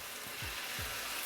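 Saltfish fritters crackle and sizzle steadily in hot oil, a dense hiss close by with a few soft low knocks in between.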